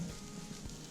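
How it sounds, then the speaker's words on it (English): A steady crackling sizzle of chicken tenders frying in a hot pan, continuous and fairly close, with no talking. "The sizzle."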